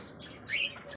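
An African lovebird gives a brief, sharp high chirp rising into a louder squeak, close and alone, lasting about a second.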